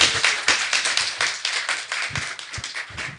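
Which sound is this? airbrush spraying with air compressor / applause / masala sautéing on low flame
applause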